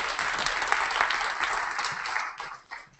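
A lecture audience breaks into sustained applause, a dense wash of many hands clapping at moderate distance that holds steady before thinning and fading out near the end.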